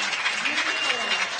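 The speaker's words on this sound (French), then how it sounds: "Et le public de Lina qui nous applaudit." Crowd applause at the Dinard 2016 show jumping derby after Luca Moneta's clear round on Neptune Brecourt, a steady wash of clapping under a commentator's voice.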